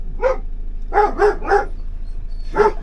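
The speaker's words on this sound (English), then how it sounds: "Another doggy walking past." A dog barks five times, sharp and moderately close, in an uneven burst, with a quiet low hum underneath and no talking.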